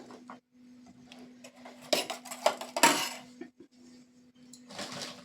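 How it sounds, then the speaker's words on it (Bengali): Eggs with chopped tomato, onion and green chilli beaten in a bowl, bursts of quick clinking and scraping of a utensil against the dish, separated by pauses, over a faint steady hum. "ডিমটাকে ভালো করে ফেটিয়ে নেব"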